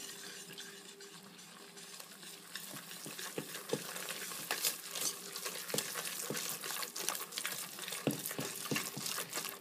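Vegan pancake batter with pecans and blueberries being stirred in a bowl, soft wet mixing with irregular spoon taps and scrapes that grow busier over time, quiet and close, no talking.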